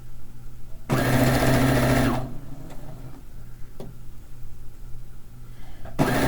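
A sewing machine stitches a block for a fish-themed quilt in loud, fast bursts, one running just over a second, then quiet with faint ticks before a second burst starts at the end.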